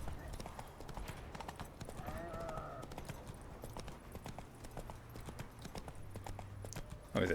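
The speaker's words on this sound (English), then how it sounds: "Feel free to gallop anytime you want." Horse hooves galloping in Witcher 3, a steady rapid clip-clop running throughout over outdoor ambience, with a brief whinny partway and faint voice murmurs underneath.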